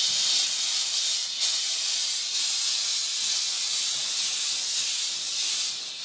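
A small steam cleaner hisses steadily and loudly throughout while its brush attachment scrubs a wall, the bright jet sound continuous with slight surges and no talking.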